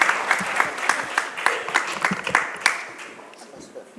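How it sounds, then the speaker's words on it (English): Audience applause at a conference inauguration, a dense wash of many hands clapping with sharper individual claps standing out, steady and fairly close before tapering slightly toward the end. "A big round of applause,"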